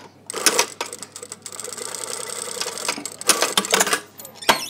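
A sewing machine stitches a blazer seam with a 6 mm allowance, running in several bursts of rapid whirring with short pauses, close by and without speech.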